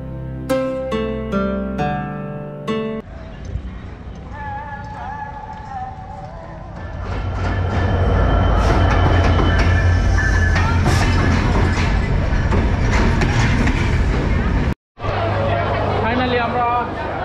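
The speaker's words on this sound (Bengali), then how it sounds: "আমরা এখন ট্রেনে উঠেছি।" A passenger train on the route to Cox's Bazar runs along the rails with a steady rumble and clatter that builds after a quieter opening, mixed with crowd chatter and voices.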